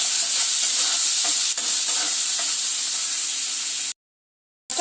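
Onion and tomato frying in a pan, a loud, close, steady sizzle and hiss with occasional stirring knocks, cutting to silence briefly near the end.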